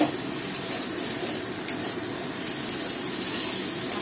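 Spices and cumin fry and get stirred in a hot pan, giving a steady close sizzle with faint scraping of the spoon throughout, no voices.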